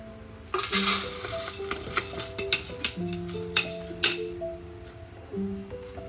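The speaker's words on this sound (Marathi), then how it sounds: "परत एवढा सगळा तळून घेते." Food frying in a pan in a home kitchen sizzles softly under scattered clinks and scrapes of a utensil stirring against the cookware, with a few sharper taps standing out.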